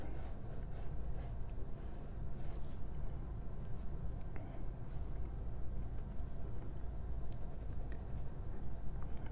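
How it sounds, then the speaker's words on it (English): Pencil scratches across paper in steady strokes while guide marks for a cone drawing are sketched, a close, continuous rubbing sound with no talk. "going to sketch in a couple more guide marks to help me with what ellipse might be down here."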